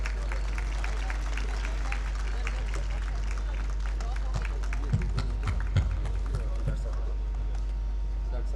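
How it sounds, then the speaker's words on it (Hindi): Audience applause at an All India Mushaira poetry gathering in Gorakhpur, held at Islamia Inter College, is dense, continuous clapping from a crowd. It runs over a steady low electrical hum, with a few louder claps near the middle. "तालियाँ बजते रहें हज़रात।"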